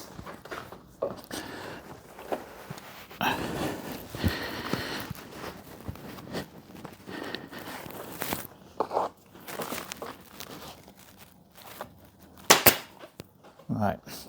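A staple gun fires staples into fabric on an antique tub chair, giving scattered sharp snaps, some close and loud, amid rustling and handling noises and someone talking.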